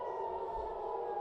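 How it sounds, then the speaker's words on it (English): Air raid sirens wailing across Tel Aviv during a red alert, a steady distant drone heard faintly for just over a second. "you can hear those sirens still blaring across the city"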